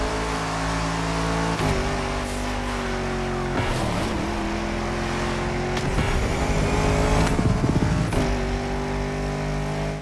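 Lamborghini Huracan supercar racing in the video game The Crew Motorfest, a loud sustained engine drone that repeatedly rises and drops with gear shifts, plus tire squeal, close and continuous with no talk.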